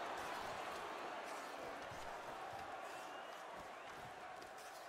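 Crowd noise in a hockey arena during an NHL playoff play-in game between the San Jose Sharks and Minnesota Wild: a steady, distant roar of many voices, fairly faint and even throughout.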